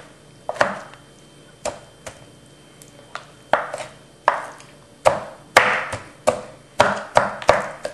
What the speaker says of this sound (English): I kind of roughly chop them first and then re-chop them to make it finer.